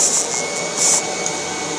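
A Kirby G4 80th Anniversary Edition vacuum with its carpet fluffer attachment runs steadily and close, a continuous high whining motor drone with brief surges in pitch and loudness as it works.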